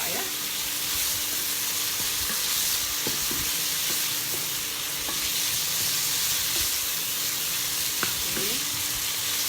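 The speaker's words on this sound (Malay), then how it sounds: "Ini kita masukkan isi ayam. Ya, kita goreng sampai ayam setengah masak ya." Chicken pieces frying in a wok for kuey teow, a steady loud sizzle and hiss throughout with occasional scraping stir clicks, close up and continuous.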